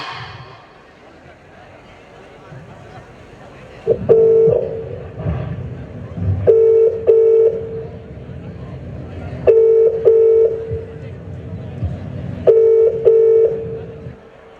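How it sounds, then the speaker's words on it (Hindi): Telephone keypad tones beep in short bursts of several presses, separated by stretches of a steady ringing or dial tone, heard over a stage performance at a college annual function with a low murmur of background noise. "मैं अभी मेरे बेटे को फोन करती हूँ"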